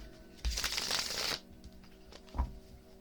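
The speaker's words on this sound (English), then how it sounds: "I feel like one more shuffle." A quick, crisp burst of divination cards being shuffled up close, followed by quieter handling and a soft tap.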